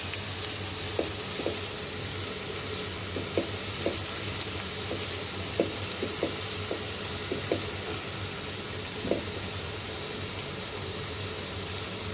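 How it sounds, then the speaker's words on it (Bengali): Garlic frying in a pan for a rui fish curry with bitter gourd and potato, with salt added: a constant dense sizzle fills the clip, broken by a handful of light clicks from stirring, with no one talking. "রসুনটা যত ভালো করে সুন্দর করে ভাজা ভাজা হবে"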